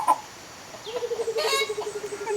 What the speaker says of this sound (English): They're making noises like the chicken and the birds.